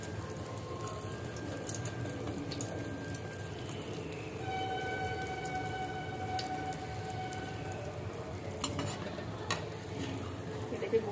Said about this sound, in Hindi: तेल अच्छे से हो गया है गरम, इस पर ब्रेड को फ्राई कर देंगे